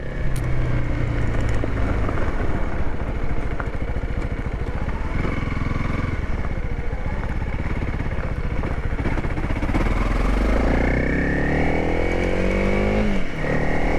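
A Honda CRF 300L motorcycle rides a tight, flowy single-track off-road trail. The engine drones loud and steady throughout, rising and falling with throttle changes and gear shifts, close to the listener with no talking.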